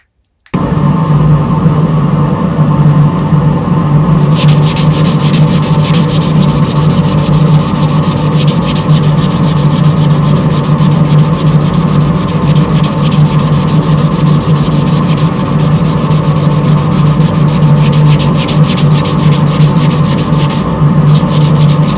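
An angle drill sands yew wood in a continuous, loud, steady abrasive whir with a harsh rubbing texture that runs almost unbroken and close up, with no talk over it.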